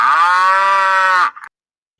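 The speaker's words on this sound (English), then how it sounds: "You're supposed to wait for the moo, Alan." Cow moo sound effect played on a live soccer stream: a single loud, sustained, droning moo that cuts off abruptly with a brief tail, alone without talk.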